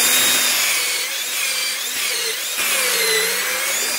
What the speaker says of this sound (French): il n'y a plus qu'à venir et percer